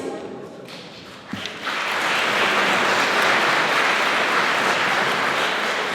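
A gala audience at a recognition evening in Lanoraie bursts into applause for an honoured ambassador, opening with a few scattered taps and thuds before a dense, sustained wave of clapping takes over.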